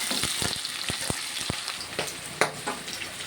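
Onion frying in oil with whole garam masala gives a nearby sizzle broken by a series of sharp clacks and scrapes of stirring, about one every half second, with no talking.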